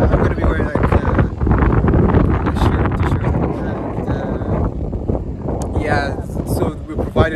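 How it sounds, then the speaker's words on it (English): Strong wind roars and buffets the microphone at an open-air desert base camp in the Danakil Depression, a loud continuous low rumble throughout with a person talking over it. "It is very windy."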